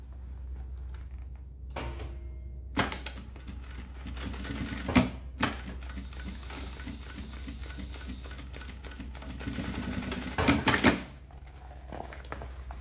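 A sewing machine stitching a seam on a zippered cosmetic pouch, a steady rapid mechanical whirr running throughout at close range, broken by a few louder clunks and pauses, with no talk.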